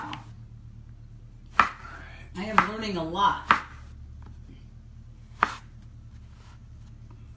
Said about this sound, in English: We've got the tempeh, which we're chopping up